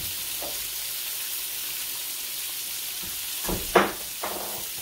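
Colossal deveined shrimp sizzle in a pan, a constant close frying hiss with a few brief stirring scrapes and one sharper clack near the end.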